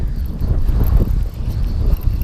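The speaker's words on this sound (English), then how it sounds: "It is so windy." Steady low rumble of wind buffeting the microphone while carp fishing, loud and continuous with gusting swells and no talk.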